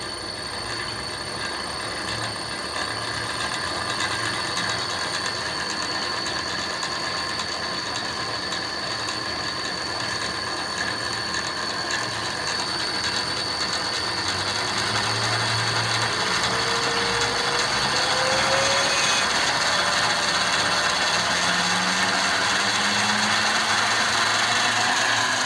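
A boxmotor-driven truck motor runs steadily and winds up in speed, a loud continuous mechanical whine with a rising tone over ratcheting gear noise, close by and without talk.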